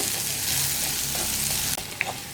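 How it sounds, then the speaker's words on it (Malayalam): Potato and soya masala curry with onions being stirred as it fries in a pan: a steady close sizzle with soft spoon scrapes and a couple of sharper clinks near the end, with no voices. "ഞാനിത് ഒന്ന് ഇളക്കി കുക്ക് ചെയ്തെടുക്കട്ടെ."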